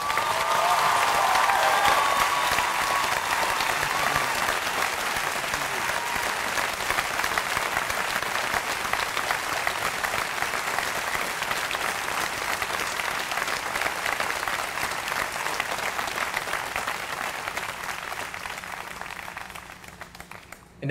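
Sustained audience applause fills a commencement ceremony hall, loud and steady throughout before slowly tapering toward the end, with a brief bit of speech near the start.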